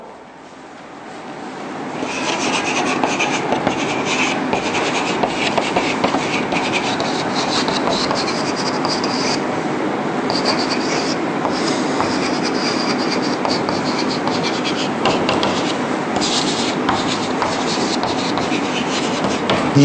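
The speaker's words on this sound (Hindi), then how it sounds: "तो मैं इसको इस तरह से लिखता हूं" Chalk or marker scrapes continuously across a board during a physics lecture, a loud, close, rasping rub with short strokes that goes on without a pause.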